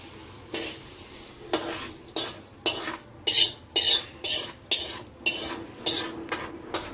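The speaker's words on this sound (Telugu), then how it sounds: "ఇప్పుడైతే ఇది పోపు అయితే ఇందులో వేసేసుకొని కలిపేసుకుందామండి" A spoon stirs hot tempering into tomato chutney, a series of about a dozen close metallic scrapes and clinks against the vessel in an uneven rhythm over a faint background hiss.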